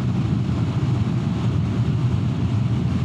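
Steady, loud engine and wind roar of a Lambretta G350 scooter speeding up past 120 on an open road, continuous low rumble without pauses.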